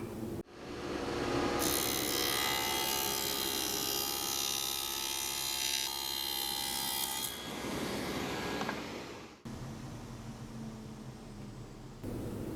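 Table saw spinning a dado blade through plywood to cut a groove, a loud steady broadband whine running for several seconds, then winding down and stopping before a quieter stretch of shop noise.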